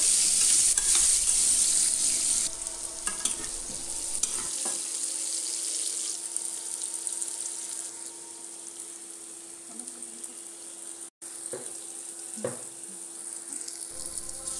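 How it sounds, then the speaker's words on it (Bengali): A spoon scrapes and stirs salted vegetables for khichuri in a pot over a steady sizzle, with a few clinks against the pan, no talking. "এখন লবণ দিয়ে দেওয়ার পরে ভালো মতো নেড়ে সেদ্ধ করে নিচ্ছি"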